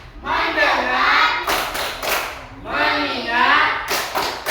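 A class of children chants a focus clap routine in a classroom, voices dominating, with two short bursts of group hand claps breaking through between the chanted words.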